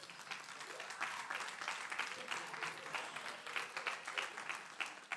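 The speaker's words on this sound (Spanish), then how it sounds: "Dele un aplauso al Señor y para disimular" A church congregation claps in sustained, fairly dense applause that sounds moderately distant and continues for several seconds.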